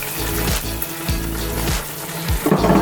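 Water sloshing and pouring as it is drained from a plov pot, a steady wet rush with a few soft clunks of the pot, no voices.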